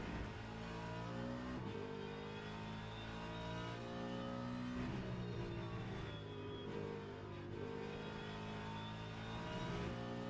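Ford Mustang race car in Le Mans Ultimate on the Circuit des 24h, engine howling flat out through the gears, continuous and close with rising pitch and shift breaks.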